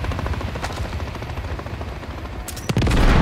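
Heavy gunfire in Call of Duty Modern Warfare III (2023) during the Payload mission, a continuous rattle of automatic fire and booms with helicopter rotor noise underneath, swelling louder near the end.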